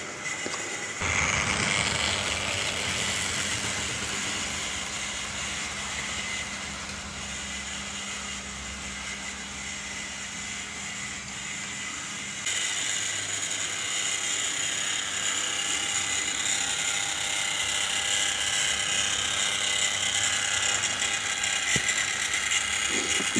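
A light Tri-ang/Hornby single-wheeler model locomotive of Great Western type strains up a hill pulling light LMS coaches, making a steady whirring, ratcheting mechanical buzz with a faint hum beneath it, heard alone throughout.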